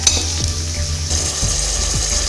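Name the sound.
tempering pepper, ginger and curry leaves sizzling in oil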